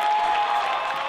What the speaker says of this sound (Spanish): Y otro fuerte aplauso por ese equipo que ha trabajado.